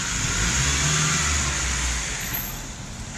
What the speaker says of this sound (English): Fucking zips out in his red car.